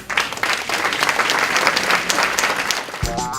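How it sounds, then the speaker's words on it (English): Audience applause at a community honors event, a loud, dense burst of many people clapping that holds steady for a few seconds before a voice begins at the very end. "But let's give a round of applause."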